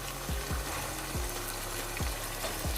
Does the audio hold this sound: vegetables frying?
yes